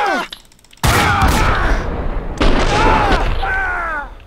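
Heavy gunshots and booming blasts in Max Payne 2, loud sudden bursts separated by a brief lull, with a pained groan and a voice heard among the shots.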